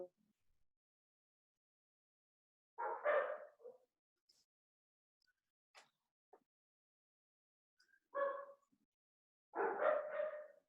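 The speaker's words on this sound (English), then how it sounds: "My dogs are going to make noise this whole time." Dogs bark in short bursts, a few sharp woofs separated by quiet gaps, fairly close and moderately loud.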